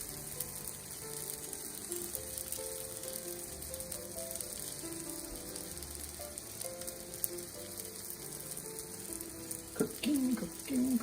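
Homemade naan cooks in a hot skillet for a chicken curry dinner, giving a steady, soft sizzle that runs throughout, with a few brief clatters near the end.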